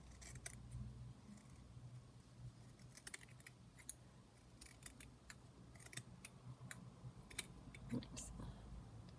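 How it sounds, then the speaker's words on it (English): Scissors snip through fabric during junk journal crafting, a series of quiet, irregular crisp cuts close by, with faint rustling of the material between snips. "So let me just cut a bit more fabric."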